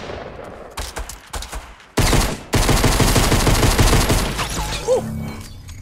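Pistol gunshots in the Fortnite video game, a rapid volley of loud, close sharp cracks that merge into a dense burst of fire before tailing off.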